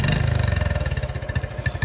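A motorcycle engine pulses loud and close as the throttle is worked, a rapid throbbing beat that climbs in pace toward the end, with no voices.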